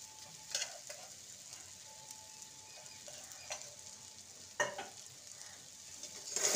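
Mashed boiled potato and chaat masala are stirred in a frying pan while cooking a semolina tea snack, with faint sizzling and several soft scraping strokes of a spoon against the pan, no voices.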